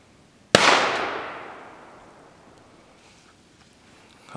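A single sharp gunshot cracks out during a rabbit hunt, loud and close, then rings into a long fading echo over a few seconds of quiet outdoor air.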